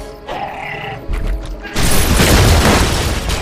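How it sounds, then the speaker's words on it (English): A loud booming crash erupts as a Pachycephalosaurus charges in the LEGO Jurassic World video game, with thuds and a grunt before a broad sustained blast of debris noise. "Wasn't expecting her to make that much of an explosion."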